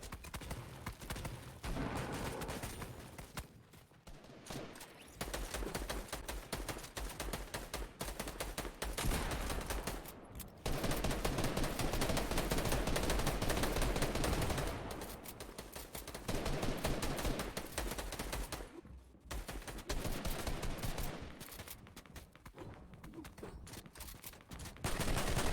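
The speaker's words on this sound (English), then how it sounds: "Lots of shots fired, and actually extremely close to the Saints here" Dense gunfire from the video game Fortnite in a competitive trios match, continuous rapid shots crackling in long stretches with brief pauses, loud and close throughout.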